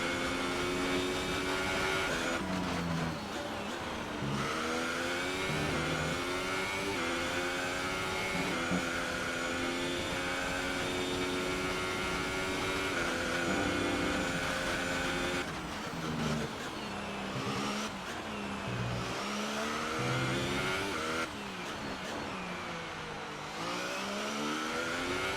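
Formula 1 race car engine on a flying lap in F1 2018 at Abu Dhabi, a loud continuous high-pitched scream rising and dropping through gear changes and braking for corners, with no talk over it.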